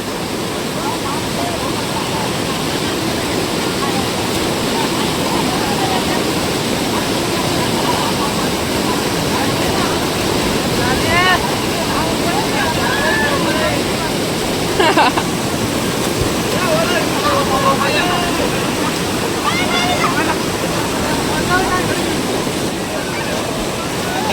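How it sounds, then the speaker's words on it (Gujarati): Water gushes out under strong pressure at a village bathing spot, a loud, continuous rushing roar throughout, with faint voices occasionally audible beneath it. "એટલું પ્રેશર આવે જો તો ખરી કેટલું પાણી આવે"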